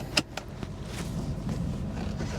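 Low, steady engine and road rumble from a vehicle with an Allison transmission that has trouble shifting, heard from inside as it drives down the road, with a few light clicks early on.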